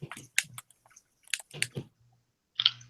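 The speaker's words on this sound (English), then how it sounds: "If anyone's hearing someone chewing, that's me. I'm just eating pizza." Someone eating pizza in a voice-chat hangout, with a few soft, close, wet chewing bursts spread through a short, fairly quiet stretch, the last one a bit louder.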